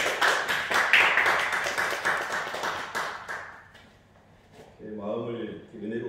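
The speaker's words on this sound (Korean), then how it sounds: "박수로 하나님께 올리겠습니다." A church congregation bursts into applause offered up to God, dense, steady clapping filling the room before fading out, followed by a voice speaking.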